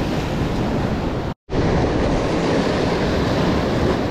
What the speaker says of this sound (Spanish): ya no llegan tan alto las olas.